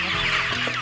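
At a poultry farm during feeding, a dense crowd of chickens clucks loudly and continuously nearby, with many overlapping calls filling the short clip.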